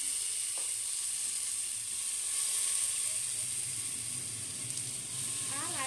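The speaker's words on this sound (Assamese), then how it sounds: "চাউলৰ পানীখিনি শুকাই যোৱালৈকে অলপ সময় ভাজি থাকিম" Soaked rice fries in ghee with cloves and bay leaves inside a pressure cooker, giving a steady, fairly quiet sizzling hiss with occasional faint stirring scrapes.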